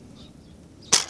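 A single sharp gunshot, fired at a turkey in a cartoon hunting scene, cracks loud and close near the end after a stretch of quiet.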